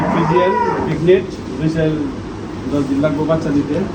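A Red Friesian dairy cow moos loudly and close by in a long, drawn-out low call, with people talking over and around it on a dairy farm.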